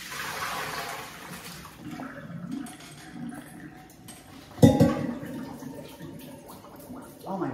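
Water pours and gurgles as blanched heirloom beans are drained, a steady rush that swells into a louder splashing surge near the end, with no speech.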